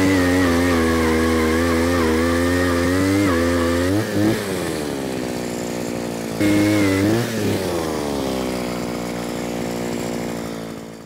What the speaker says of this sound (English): I was drilling a series of holes out here